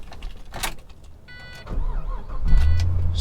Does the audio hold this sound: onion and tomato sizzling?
no